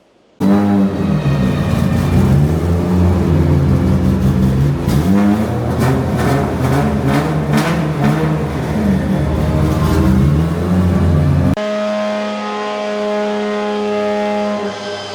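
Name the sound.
Formula Drift car engine running on the dyno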